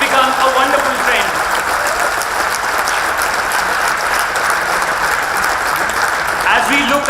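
A graduation day crowd at a business school campus applauds steadily and densely throughout, with a voice briefly audible over the clapping near the start and end.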